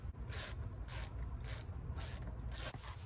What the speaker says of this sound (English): the bolt on top and the bolt on the bottom are both 10mm bolts. So let's go ahead and undo those.